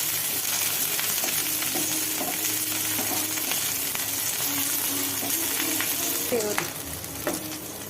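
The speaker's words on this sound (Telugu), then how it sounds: "కొంచెం ఆయిల్ వేసుకుని పచ్చిమిరకాయలు సింగ్లో వేసుకోవాలండి" Green chillies fry in oil over a low flame, a steady close hiss and crackle running throughout, with a few faint clinks of a spoon against the pan.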